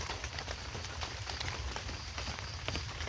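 Steady rain falls outdoors, a soft, even hiss with scattered drop ticks at moderate level, with no talking.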